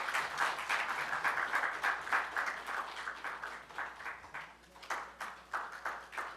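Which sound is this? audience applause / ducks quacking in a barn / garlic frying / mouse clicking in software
audience applause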